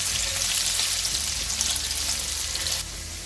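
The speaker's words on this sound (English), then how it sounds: "cumin seeds, 6 garlic that have been chopped fine. We will cook until garlic changes color to light brown." Finely chopped garlic and cumin seeds frying in hot oil for a spinach and corn curry, a dense continuous hiss that drops slightly near the end, close and steady with no voices.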